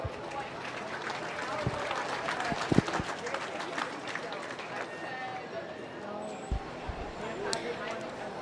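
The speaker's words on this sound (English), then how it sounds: "Give them a nice round of applause" Audience applause at a swine show as exhibitors leave the ring, moderate clapping mixed with crowd murmur, scattered thumps and an announcer talking over it.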